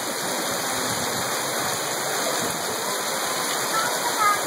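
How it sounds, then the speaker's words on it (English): Steady broadband rush of water pouring from a street shower on Nakpil Street, like a waterfall, continuous and fairly loud throughout with faint voices in the background. "waterfall"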